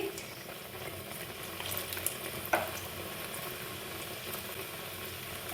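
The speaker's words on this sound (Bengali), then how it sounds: "তেলটা খুব ভালোভাবে গরম হয়ে গেছে আমি একে একে লবঙ্গ লতিকাগুলো ছেড়ে দিচ্ছি" Labanga latika, khoya-filled Bengali sweets, frying one by one in hot oil with a faint steady sizzle, a brief clink near the middle, and no talk.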